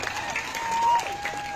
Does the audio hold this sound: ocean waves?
no